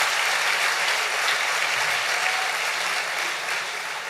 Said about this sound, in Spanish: denle un aplauso al Rey bendito ahí